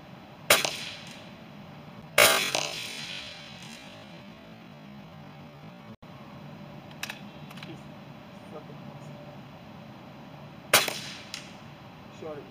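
Benjamin Armada .25 PCP air rifle firing at pumpkins outdoors, with three sharp, well-spaced reports standing out over quiet ambient background, a fainter snap or two in between, and people speaking softly.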